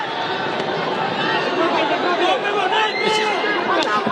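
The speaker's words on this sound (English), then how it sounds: "The crowd on their feet." Boxing crowd on its feet at a Marcial versus Colmenares bout, a dense roar of cheering and babbling voices, loud and sustained, with occasional sharper shouts and whistles rising out of the din.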